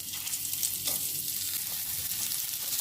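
Ridge gourd fries in mustard oil with cumin seeds, bay leaves, dried red chilli and turmeric, producing a steady, close, hissing sizzle with faint stirring scrapes, even and unbroken, with no talking.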